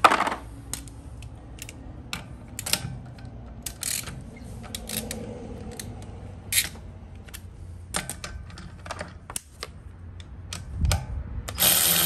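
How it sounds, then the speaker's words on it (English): Hercules 12-volt cordless 3/8-inch extended ratchet clicking as it is tested at 50 foot-pounds, giving a series of sharp, irregular mechanical clicks and ratcheting bursts up close over a quiet background. "Let's go ahead and see if it turns or just clicks like it did with the 40 foot-pounds."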